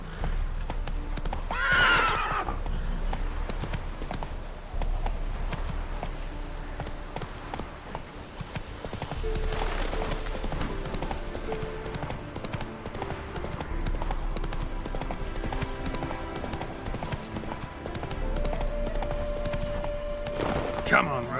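Roach, Geralt's horse in The Witcher 3, gives a short whinny near the start, and then its hooves clip-clop in a steady rhythm through the rest of the ride, under a bed of game ambience and music.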